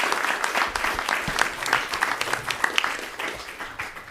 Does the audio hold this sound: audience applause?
yes